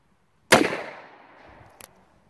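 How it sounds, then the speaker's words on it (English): A single sharp gunshot from a Pietta 1873 Colt clone revolver cracks loudly and close, its blast decaying into a lingering outdoor echo, with a faint click or thump following about a second later. "That gun shoots a little on the low side."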